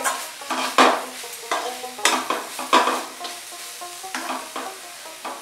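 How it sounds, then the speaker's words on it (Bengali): A spoon stirs boiled cauliflower filling in a pan for kachori, giving repeated scraping strokes over a steady sizzle of released water, close and continuous with no voices. "আমি ঢাকা খুলে একটু নেড়ে নেব ভালো করে।"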